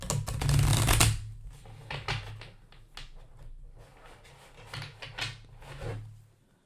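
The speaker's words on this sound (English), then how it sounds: "I shuffle the cards." Playing cards riffle-shuffled in a loud burst near the start, then several softer flutters and taps as the deck is handled and squared.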